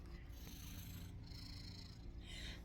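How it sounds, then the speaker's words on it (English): A cat at home at bedtime, purring faintly and steadily against a soft background, with no voices over it. "There's the cat. She wants treats,"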